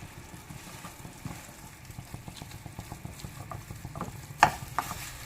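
Homemade ghee sizzles faintly in a pan while badam katli is prepared, a soft continuous crackle broken by stirring scrapes and a couple of sharper utensil clinks near the end.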